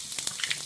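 Asafoetida sizzling in hot oil for tempering after mustard seeds, a brief close hiss with a few small pops.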